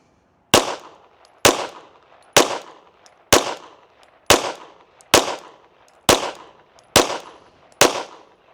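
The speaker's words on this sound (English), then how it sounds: "Let's shoot a group at that bottom right." Nine rifle shots fired at a steady pace roughly one second apart while shooting a group with a Cyelee Wolf X Pro red dot sight, each a sharp loud crack with a brief echoing tail, no talk.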